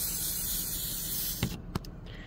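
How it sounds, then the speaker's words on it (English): Lubricant spray hisses steadily from an aerosol can onto the contact points of a car's convertible top, a close continuous blast that cuts off, followed by a couple of short sputtering bursts. "you just want to spray those bad boys"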